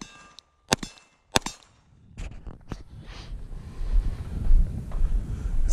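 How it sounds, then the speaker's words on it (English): Glock 19 Gen 5 pistol shots ring off steel plates at distance, a few sharp cracks with metallic clangs, followed by rising wind noise buffeting the microphone. "I'm starting to really enjoy this Gen 5."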